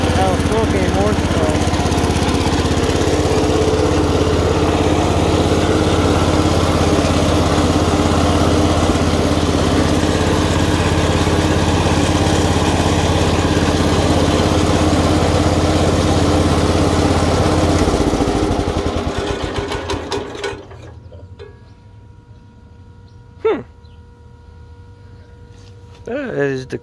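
A 1964 Cub Cadet 100 garden tractor engine runs loudly with a steady, rough drone and a knocking noise from the crank or clutch, then winds down and cuts off, leaving quieter surroundings with a sharp knock.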